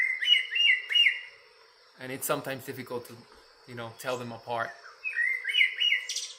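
A mimid, a mimicking songbird in the Guatemala highlands, gives bursts of bright chirping whistled phrases at the start and end, fairly clear and close, with someone talking over the middle section.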